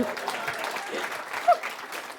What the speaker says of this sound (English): I appreciate you clapping my self-sabotage.